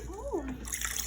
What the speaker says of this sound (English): Jasmine rice, yeah, in here with some cold water. And I'm cleaning it a little bit before I put it in the pot.